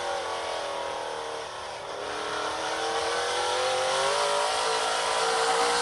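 A stock race car in the 2023 Menards 250 accelerates out of a corner. Its engine note dips briefly, then climbs in a loud, sustained, rising whine with no voices.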